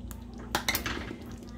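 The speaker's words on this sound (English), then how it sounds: "I'm gonna add the potatoes now because they won't take very long to cook." Potatoes are dropped into a pot of Cajun chicken fricassee, making a couple of brief clattering knocks against the cookware over a quiet low hum.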